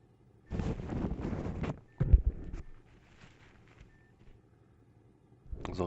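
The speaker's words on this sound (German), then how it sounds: "Sorry für das Rascheln, das war ein Taschentuch." A tissue rustles close to the microphone in two short crinkling bursts, then falls mostly quiet before another rustle starts at the end.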